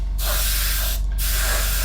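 An airbrush sprays dark green paint onto a 1/32 Revell He111 model kit in two steady hissing bursts, a short pause between them, close and loud.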